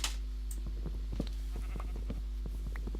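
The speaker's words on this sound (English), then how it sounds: "Hello, sheep." Sheep bleating in Minecraft with the FTB modpack: several short, nasal calls come one after another over a steady low hum and faint background clatter, with no talk.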